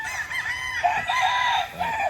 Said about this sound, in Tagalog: Tingnan natin yung mga manok.